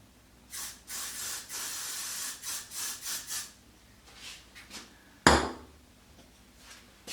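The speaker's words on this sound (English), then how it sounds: "I'm using the Got To Be glue spray to lay this ponytail in place" Got To Be glue spray hisses onto hair to lay a ponytail in place, a run of short close bursts followed by a few softer puffs and one sharp final spray, with no talk.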